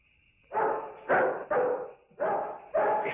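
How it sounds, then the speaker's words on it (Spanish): Several dogs released for a chase bark in five loud, close, strong woofs spaced unevenly over a few seconds, alone with no talk. "¡Suelta a los perros!"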